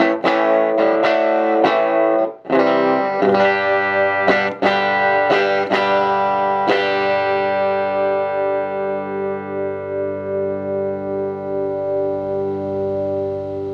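An electric guitar on its treble pickup, played through a 1958 Motorola tweed amplifier turned all the way up, strums a few bright, slightly gritty chords, then lets a final chord ring out and slowly decay.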